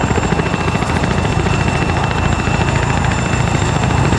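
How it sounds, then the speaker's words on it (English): Chinook helicopter in the video game Arma 3, a steady loud rotor drone with rhythmic blade chop running throughout, close and continuous with no talk over it. "Whose Chinook is that?"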